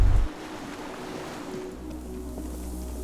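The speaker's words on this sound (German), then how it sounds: "Entfernten Geräusche von Frachtschiffen, Hornsignale schallen über das Wasser." Ambient sound from the video game Disco Elysium: a low, steady rumble of distant freighter ships carries over open water with wind. It plays faintly and alone after a brief thump at the start.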